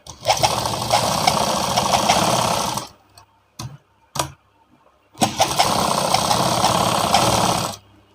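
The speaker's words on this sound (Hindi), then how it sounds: "ये अब इसको चारों तरफ से इसकी सिलाई लगा लेंगे।" Electric sewing machine stitching a blouse cup seam, a steady rapid whirring run of about three seconds, a pause with a few short bursts, then another long continuous run, close and loud.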